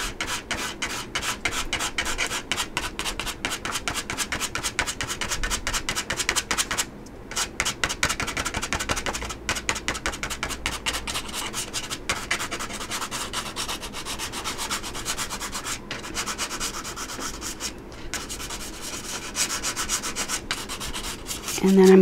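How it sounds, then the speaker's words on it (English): A credit card is dragged again and again across raw umber paint on a gelli print, making close, dry, rasping scrapes in quick repeated strokes with only brief pauses, and no voices. "I'm going to scrape it again using my credit card."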